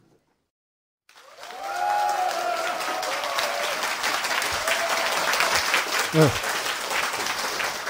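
Sustained audience applause at a Korean lecture on judicial power, starting abruptly after a second of silence and holding steady and loud to the end, with a brief word spoken over it.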